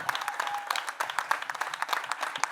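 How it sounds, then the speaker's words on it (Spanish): An audience at a feminist school panel gives a steady round of dense, even applause, with a few voices faintly audible beneath the clapping. "queremos dar un gran aplauso a Nortes y Diego"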